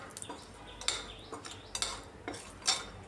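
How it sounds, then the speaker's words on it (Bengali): Spices for panch phoron tempering being stirred in hot mustard oil with a bay leaf in a pan, a series of distinct metallic scrapes and clinks of a utensil against the pan over a faint background hiss. "ফোড়নে দিয়ে দিচ্ছি পাঁচফোড়ন।"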